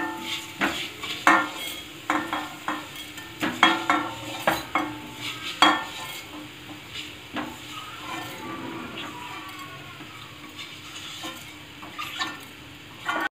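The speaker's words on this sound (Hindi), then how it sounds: "उसको नारियल को भी ड्राई रोस्ट कर लेंगे" Grated coconut dry roasts in a pan over a medium flame, a spatula scraping and tapping in irregular strokes against the metal with a faint sizzle beneath, close and moderately quiet, with no speech.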